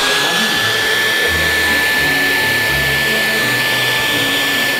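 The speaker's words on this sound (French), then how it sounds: "vous êtes un aspirateur." A vacuum cleaner runs loud and close, a constant blowing roar with a high whine that holds steady throughout and no other sound over it.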